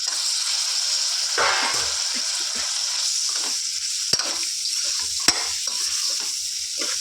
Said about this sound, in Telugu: వీటిని చక్కగా ఫ్రై చేసుకుందాం